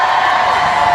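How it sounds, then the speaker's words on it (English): A large crowd at the Manchester Heroes Parade cheering and whooping, a dense sustained roar that stays loud for about a second. "Give us a cheer if you played hockey at school."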